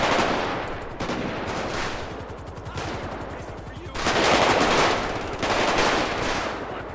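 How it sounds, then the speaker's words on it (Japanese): Heavy sustained gunfire in a large-scale street shootout in the video game GTA V, dense rattling automatic bursts at loud volume, swelling in the second half, with someone talking over it. "すげえ撃ちまくってるけど、ちょっと待って、ね、どこで撃ってるんだろう。"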